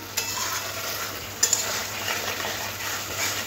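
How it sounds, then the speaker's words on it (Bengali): Potatoes sautéing with spices in a pan for katla fish curry, giving a steady sizzle with occasional clinks and scrapes of a utensil stirring, close and moderately quiet, with no talking. "এবার এই মশলার মধ্যে আলুগুলো দিয়ে দেবো। আলুগুলো খুব ভালো করে একটু মশলার সাথে একটু কষে নিতে হবে।"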